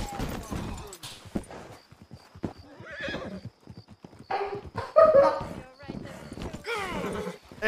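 A horse in Red Dead Redemption 2 neighs and whinnies with hoof clip-clops, heard between bursts of people talking over it.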